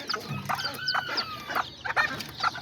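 Miniature hen clucking softly near her newly hatched chicks, a series of short close clucks with faint chick peeps mixed in.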